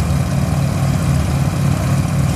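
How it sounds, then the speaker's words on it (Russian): A gyrocopter's engine and propeller drone steadily and loudly at an air show, a continuous low-pitched roar without a break. "Это гирокоптер или гироплан."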